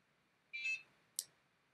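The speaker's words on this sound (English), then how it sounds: "The beep shows us that the Iridium is now connected." An Iridium satellite modem gives a short electronic beep on connecting in near silence, followed moments later by a sharp higher click-beep, both faint and brief.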